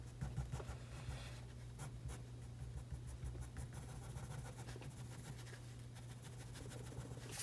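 A pencil eraser rubs across paper to remove lines from a drawing of a spruce tree. Soft, quiet scratchy strokes repeat steadily throughout over a low background hum.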